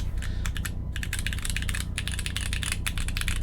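Rapid, dense clacking of keystrokes on a Honeyboard 60 mechanical keyboard, a steady stream of close, crisp clicks with a low hum underneath and no voices.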